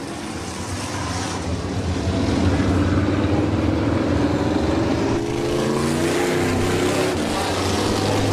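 A pack of 360 sprint cars runs pace laps together on a dirt track, making a steady, loud, layered engine drone close to trackside that holds for the whole stretch, with faint commentary underneath.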